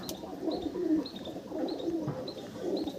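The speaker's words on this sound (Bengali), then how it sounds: "পায়রা কিন্তু খুব সুন্দর পায়রা আছে" Pigeons, Madras breed kept in a loft, give soft repeated cooing calls that rise and fall over steady low murmuring, with a few brief higher chirps, fairly close and moderately loud throughout.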